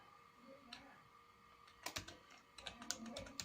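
Typing on a computer keyboard while filling in a document, quiet scattered key clicks at first that turn into a faster run of sharper taps, with low background noise.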